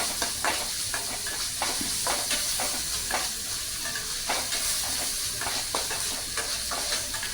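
Onions sauté in a pan over a medium flame, a steady close sizzle broken by repeated scraping and stirring strokes, with no talking.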